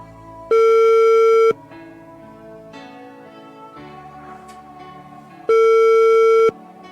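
On a radio broadcast, an outgoing phone call sounds its ringback tone: two loud, one-second electronic tones spaced about five seconds apart, with soft background music playing between them.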